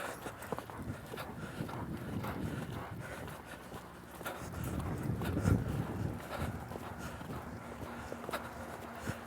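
A horse lopes along, its hooves thudding on the ground in a loose rhythm, fairly faint and mixed with wind buffeting the microphone.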